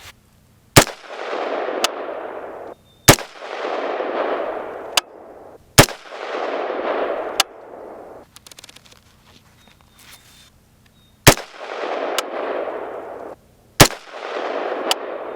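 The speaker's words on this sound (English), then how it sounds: "Let's put this on at 25 yards, shoot at the middle target." Foxtrot Mike M102 rifle fired at a 25-yard target on a range: six sharp, loud shots spaced a second or two apart, each followed by a long ringing decay, with a quieter pause partway through the string.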